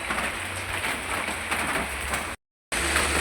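Light rain pattering steadily on an umbrella outdoors in a hillside flower garden, a dense continuous patter heard close and alone, briefly cutting out before resuming.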